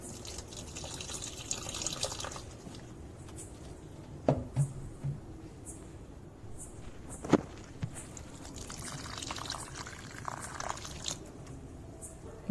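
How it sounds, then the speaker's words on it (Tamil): Vegetable-waste fertilizer liquid is poured onto garden plants in an uneven, faint trickle and splash, with a few louder knocks and splashes and no voices. "எல்லா செடிக்கும் கொஞ்சம் கொஞ்சம் ஊற்றிடுவேன்."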